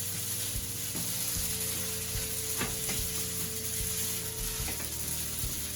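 Yakisoba made with spaghetti noodles stir-fries in sesame oil, a steady close sizzle running without a break, with occasional light clicks from the stirring utensil.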